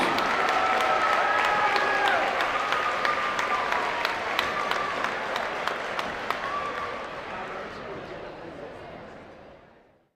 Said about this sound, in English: Let's hear a round of applause for our REC wrestling program